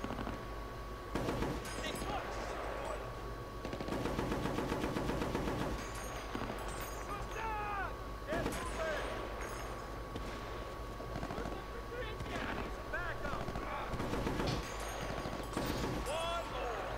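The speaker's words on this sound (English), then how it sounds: "Guns." Gunfire in Battlefield: Bad Company during a tank battle, bursts of shots and machine-gun rattles cutting in and out amid game effects, while someone talks over much of it.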